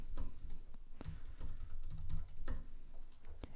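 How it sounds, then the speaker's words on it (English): Password typed on a computer keyboard, soft, irregular key taps close by, with small clusters and pauses and no talking. "So I'm just gonna type in my new password"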